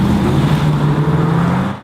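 The engine of a Mercedes-Benz SLR McLaren grand touring supercar roars loud and close in a short, sustained burst of deep rumble that holds steady before cutting off.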